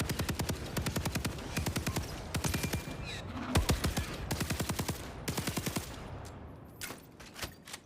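Rapid automatic gunfire in the Starship Troopers VR game, several long, dense bursts of shots separated by short gaps, loud and close, then a few scattered single shots at the end.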